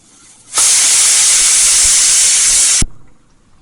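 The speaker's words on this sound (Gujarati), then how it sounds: "બે સીટી થઈ ગઈ છે." A pressure cooker on a gas flame lets out one loud, steady blast of hissing steam for about two seconds while butter paneer masala cooks inside, then cuts off abruptly.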